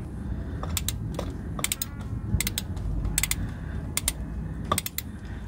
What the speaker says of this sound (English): I use a 3/8 breaker bar, ratcheting breaker bar